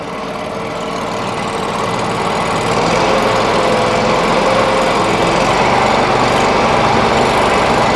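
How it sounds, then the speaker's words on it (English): A HotJet 2 trailer-mounted sewer jetter with a 37 HP fuel-injected engine runs steadily, a loud continuous drone that swells slightly at first and then holds even, with no voices. "Wow, that engine's nice and quiet."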